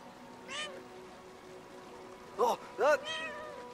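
A cat meows in the video game Brothers, one faint meow followed by two louder, closer meows and a softer trailing call in quick succession.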